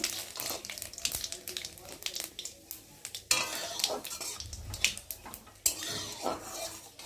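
Cumin seeds and bay leaves drop into hot oil for a tempering, crackling with a busy sizzle under repeated clinks and scrapes of a metal spoon against the pan, close and moderately loud.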